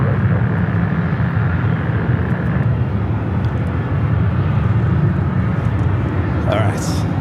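An airliner lands on runway 24 right at LAX with a loud, continuous low jet roar that stays steady throughout, heard at a distance through the wind.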